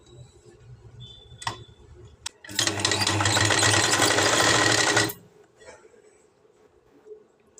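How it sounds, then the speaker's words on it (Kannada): A sewing machine stitches piping onto a blouse in one steady, loud mechanical whirr lasting a few seconds, framed by quieter handling of the cloth before and after. "ಈ ರೀತಿ ಫೋಲ್ಡ್ ಮಾಡಿ ಇಲ್ಲಿ ಹೊಲಿಗೆ ಬರಬೇಕು, ಆ ರೀತಿ ಹೊಲಿಗೆನ ಹಾಕಬೇಕು ನಾವು."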